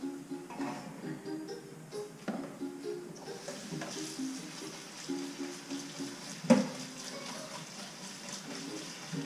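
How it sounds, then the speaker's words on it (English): Water from a kitchen tap runs steadily over mushrooms being washed, a soft continuous splashing stream with occasional light knocks and handling sounds. "I'm going to start by washing the mushrooms."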